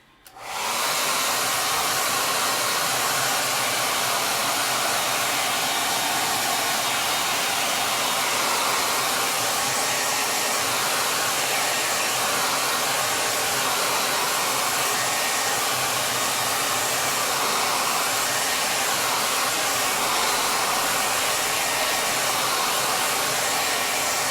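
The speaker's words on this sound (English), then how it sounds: "I am going to hit my first coat with the blow dryer" A hair dryer switches on and blows with a steady, loud whooshing hum that continues unbroken, with no voices.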